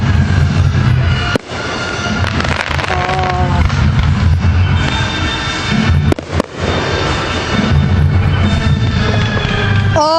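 Fireworks crackle and burst continuously at a Michigan balloon festival after a ground malfunction, with dense popping, sharp loud bangs and whistling streaks over a constant roar.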